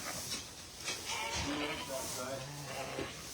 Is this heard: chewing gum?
no